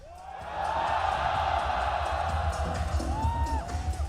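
An esports arena crowd at CAC 2023 cheers and whoops for ENCE, a sustained roar of voices swelling after a moment and holding loud, with a shout rising near the end.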